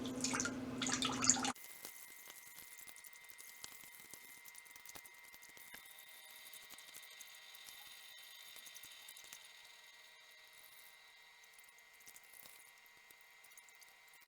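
Water dripping from a soaked Jiffy peat pellet, a dense patter of small close drips that slowly thins out over about thirteen seconds, following a brief burst of louder running water at the start.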